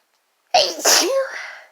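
A single sharp sneeze from chhinkni snuff bursts out of silence, a quick intake followed by a loud explosive release that trails off into a breathy tail, close and alone with no talk.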